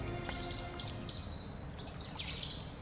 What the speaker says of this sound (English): Hopefully you're hearing some birdsong right now.